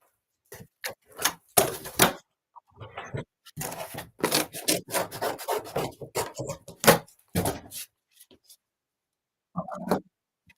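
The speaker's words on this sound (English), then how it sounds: "I'm just gonna cut up this ruined box." A ruined cardboard box is cut up at a home shipping station, producing irregular bursts of scraping and tearing with short pauses between cuts.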